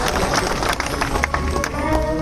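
An audience at a folk storytelling performance claps steadily and loudly, a dense patter of applause with crowd murmur mixed in.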